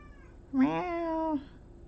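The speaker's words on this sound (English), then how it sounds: "She meows all the time." A single drawn-out meow from an indoor house cat, close and clear, rising and then holding steady for under a second in otherwise quiet surroundings.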